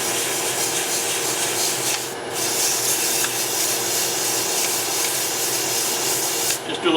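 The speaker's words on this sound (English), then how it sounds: "Grab my sandpaper." Steady, close rubbing of 180-grit sandpaper on a hand-carved wooden scoop, a continuous abrasive hiss with brief pauses, and a few muttered words at the start.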